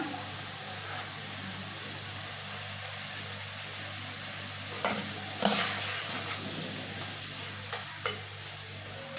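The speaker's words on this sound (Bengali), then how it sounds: "আলুটা এইভাবে ভাজা হয়ে যাবো" Potatoes fry in a pan, seasoned with chili and salt, giving a steady low sizzle throughout with a few sharper clinks of stirring near the end.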